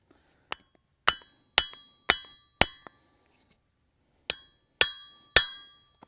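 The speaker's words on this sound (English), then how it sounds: "Man, get you a hammer," Sharp metallic hammer blows ring out on a rolling cultivator being rebuilt after a bad bearing, about eight close strikes in two quick bursts with a short pause between, each clanging briefly before fading.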